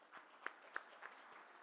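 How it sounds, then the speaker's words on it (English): Sparse, fairly faint applause for a panel at a plenary session, a few distinct sharp claps standing out over a soft background of clapping. "I think that panel deserves a proper round of applause."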